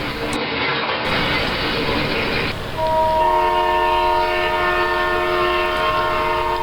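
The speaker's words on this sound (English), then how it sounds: "there's a B&O coal train rolling through, headed by a pair of F7s in that classic old B&O scheme" A B&O coal train headed by a pair of F7 diesel locomotives rolls through close by, its steady rumble joined after a few seconds by a long sustained multi-tone horn blast that holds to the end.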